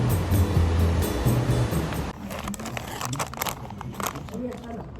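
Strong ocean surf at the Twelve Apostles, Australia, roars steadily, then the sound shifts to choppier crashing and crackling water, with wind-like noise throughout.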